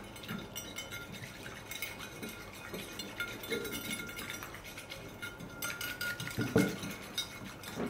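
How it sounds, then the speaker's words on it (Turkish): Molasses and water whisked in a bowl, rapid irregular clinks and scrapes of a utensil against the bowl, close and continuous with a sharper knock near the end. "1 yemek kaşığı pekmezin içerisine şöyle ortalama 1 su bardağına biraz fazla suyu katıp çırpıyorum"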